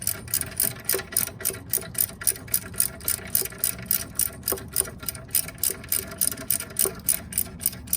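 A ratchet wrench clicks in a steady fast rhythm while tightening bolts on a flathead engine starter, close and evenly repeated for several seconds.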